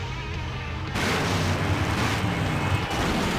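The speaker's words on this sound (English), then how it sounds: "Now that's an explosion, ladies and gentlemen." A loud, sustained explosion roars in the video game Full Throttle, breaking in suddenly as a dense, rumbling wall of noise that holds steady for several seconds.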